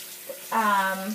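Tap water running into a sink while a makeup brush is washed with organic soap, a steady close splashing stream that starts abruptly and continues, with no voices.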